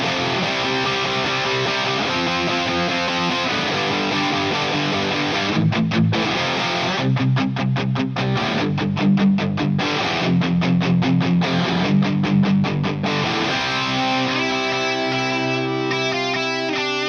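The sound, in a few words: electric guitar playing riff, distortion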